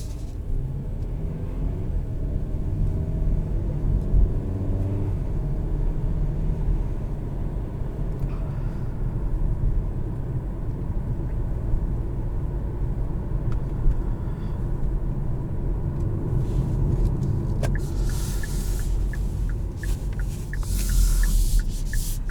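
A 2021 Kia Sportage SX Turbo driving, heard from inside the cabin as a steady low road and engine rumble throughout, with some brief wind or movement noise near the end and no talk.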